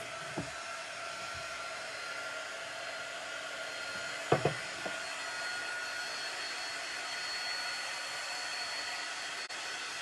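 A hair dryer blows a steady, even whoosh of air to dry paint on a handmade sign, running continuously and fairly quiet, with a few faint clicks and taps partway through.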